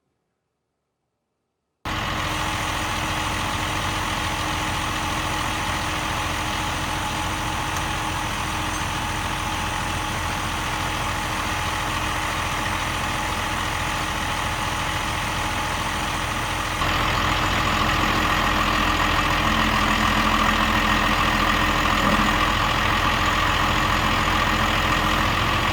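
A tractor engine idles steadily before a MeriCrusher MJS-244 STG PTO forestry tiller is hitched to it, giving a continuous, loud, even drone throughout that grows slightly heavier near the end, with no talking.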